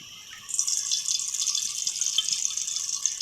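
Cooking oil pours into a mashed potato mixture for aloo paratha, a brief, close, steady trickling hiss that starts after a short pause and carries on with no talking.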